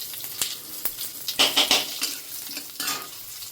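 Whole dried chillies and crushed cumin dropped into hot oil, giving a bright crackling sizzle with stirring clinks and scrapes of a utensil in the pan, close and moderately loud.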